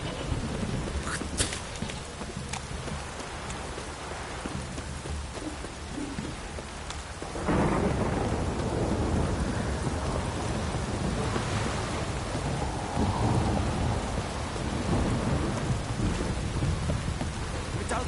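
Rain and thunder in the video game Witcher 3, steady rainfall with thunder cracks and a deep rumbling roll that swells louder about halfway through and lingers.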